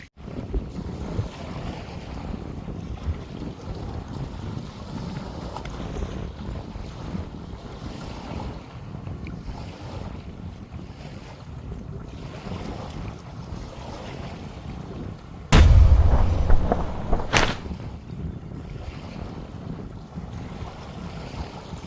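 Strong wind roars over open sea aboard a small crab-fishing boat, with a steady rushing gust and wave wash throughout and heavy microphone buffeting in two brief loud bursts near the end; nobody speaks.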